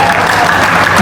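Audience applause at a Hindi poetry recital in Kanpur, steady and dense throughout, loud and close, with no clear talk over it.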